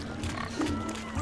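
Pigs oinking in The Witcher 3, a short burst of grunting snorts heard close over a steady background hum.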